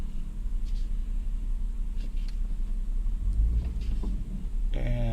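A 2002 Honda Odyssey minivan on a test drive, a steady low engine rumble and road noise heard from inside the cabin, rising slightly toward the end, no talking.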